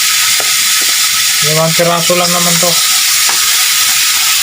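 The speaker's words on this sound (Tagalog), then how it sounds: "Kaya prituhin ko muna sila." Five chicken leg pieces sizzle steadily in hot oil in a pan for hamonado, a loud continuous frying hiss throughout while someone speaks briefly over it.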